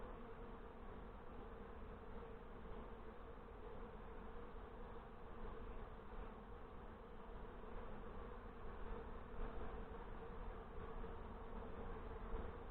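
Honeybees in a newly installed nuc hive, a dense, steady hum of many wings close by, holding level and continuous throughout with no talking.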